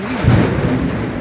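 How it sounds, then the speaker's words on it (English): Thunder rumbles through a thunderstorm with low clouds and lightning, a loud low roll swelling early and then sustained for about a second, heard alone without talk. "but still a lot of thunder and lightning."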